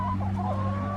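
Chickens clucking close by at feeding time, a continuous cluster of overlapping clucks and throaty calls over a steady low hum.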